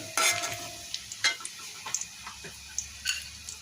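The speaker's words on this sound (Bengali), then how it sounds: "এই যে চুলাতে পেঁয়াজ রসুন দিয়ে ভেজে নিচ্ছি" Onion and garlic fry softly on a stove, a low sizzle under a series of sharp ladle taps and scrapes against the pan, spaced irregularly and close by.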